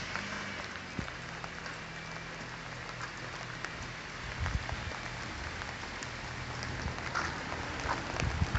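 Steady rain falls throughout a cold December night walk toward downtown Ada, Michigan, a dense, even patter with occasional louder drips close by and a faint low rumble underneath.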